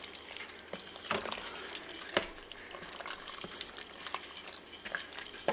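A spoon stirring cream cheese and Parmesan into creamy Cajun chicken pasta in a pressure cooker pot, with irregular wet scraping and clinks up close, soft and uneven, with no talking.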